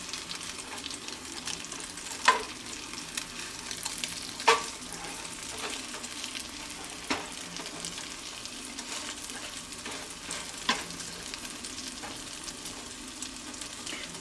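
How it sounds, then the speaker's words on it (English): French toast frying in a pan at brunch, a soft steady sizzle with occasional light clicks and taps of a spatula against the pan, fairly quiet and continuous with no talk. "just starting to sizzle, so it's time to flip these over."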